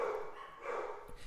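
Several dogs barking and yipping somewhere nearby indoors, a continuous overlapping chorus of mid-pitched barks that swells and fades over a moment, heard alone without talk.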